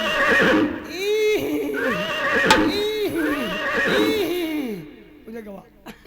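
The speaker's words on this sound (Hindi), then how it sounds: "वो देखो पहाड़ी की तरफ घोड़े दौड़ते हुए आ रहे" Horses neigh and whinny repeatedly, several loud close calls in quick succession, with a brief spoken word as the sounds fade near the end.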